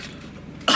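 A single short, sharp cough bursts out close to the microphone at the very end, following a quiet lull.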